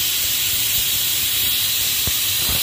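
A pressure cooker cooking beef lets off its first whistle, a steady loud hiss of escaping steam lasting throughout, with a couple of faint low knocks underneath.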